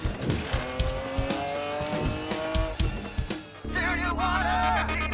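Race cars roar around New Hampshire Motor Speedway, a dense, loud engine drone with tire squeal; a crowd and an announcer's voice sit under the racing, then a new layer of tonal sound comes in near the end.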